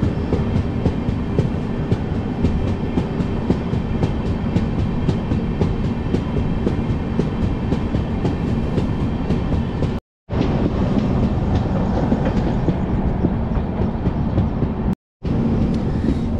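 The Venkatadri Express, Kurnool to Tirupati, runs on rails with a loud, continuous rumble and rhythmic wheel clatter heard from aboard, with two brief dropouts near the end.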